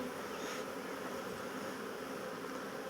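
A continuous close buzz of many honey bees flying in at the entrance of a hive, steady and dense with no voices.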